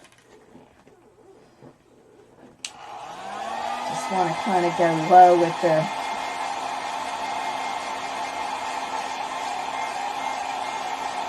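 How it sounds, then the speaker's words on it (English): A hair dryer dries acrylic paint on a Halloween witch painting. It clicks on after a quiet start and then blows with a loud, steady roar, while a voice speaks briefly over it. "Let me see if I can dry this a little bit. It's going to be loud"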